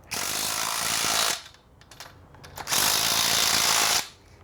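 A power tool tightens bolts on the top beam of a swing, two loud sustained bursts of whirring and rattling separated by a quieter gap with small clicks and handling noises.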